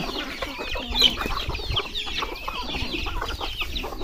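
Several chickens cluck and chatter nearby in a continuous, busy flock with ducks, with some higher bird calls mixed in.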